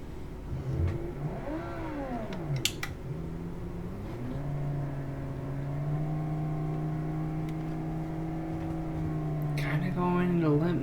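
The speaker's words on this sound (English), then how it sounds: "Our engine kind of sounds a little bit unhappy." A car engine driven uphill with its radiators removed drones with a strained, steady tone that rises in pitch and intensity, under occasional faint background sounds.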